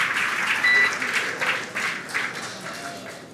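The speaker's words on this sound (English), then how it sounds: "incredible view as the crowd goes wild for Crew 4" A crowd cheers and applauds as a SpaceX Dragon capsule carrying Crew 4 splashes down, a broad, steady roar of clapping and shouts with rising swells throughout.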